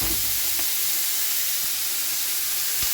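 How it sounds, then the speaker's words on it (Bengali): Papaya, potato and vegetable stems for a fish dish and potatoes frying in pans give off a steady, fairly loud hiss with a few faint clicks. No one speaks. "এদিকে ভাজা হচ্ছে মাছের সবজি আর এদিকে ভাজা হচ্ছে ভাজা আলু"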